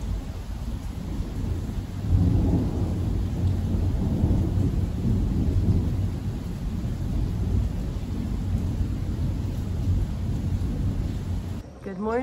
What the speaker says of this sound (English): it is dumping rain